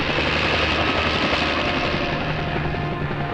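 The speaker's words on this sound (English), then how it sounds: "The blades whirl and we're off." A helicopter takes off with its blades whirling, a loud continuous rotor and engine roar heard close and steady with no talking.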